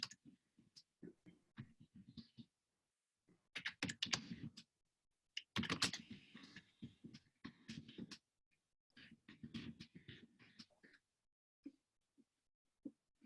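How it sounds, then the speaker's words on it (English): Irregular bursts of typing on a computer keyboard, with quick clicky keystrokes in uneven runs separated by pauses, close and fairly quiet in an otherwise still room. "That was me typing away, Deborah, sorry."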